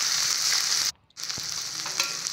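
Ground onion, cumin, ginger and chili pastes fry in hot oil for an egg curry, giving a steady close sizzle that cuts out briefly and then resumes, with no voices.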